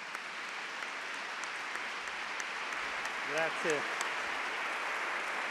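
Steady, moderately distant audience applause welcomes a professor on stage in Padova, a brief spoken word cutting through the clapping midway.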